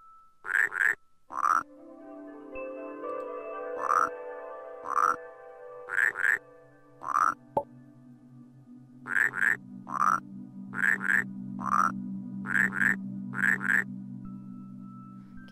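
Frog croaks from the puzzle game Rusty Lake Paradise, a series of loud, clear repeated calls in short bursts, with tonal game music sustained beneath them.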